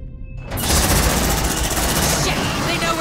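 Sustained gunfire in Aliens: Dark Descent bursts in abruptly and continues as a dense, loud rattle of automatic fire with rumbling low end, faint speech beneath.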